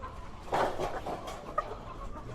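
Chickens recovering from illness clucking softly in short bursts, a few hens close by with quiet background noise.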